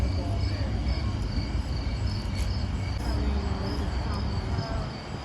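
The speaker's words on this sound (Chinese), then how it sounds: "哎，怎么有蟋蟀在叫啊？" An arcade ride machine plays a looped cricket-chirping sound effect, a steady, shrill chirr that continues throughout, with faint voices in the background.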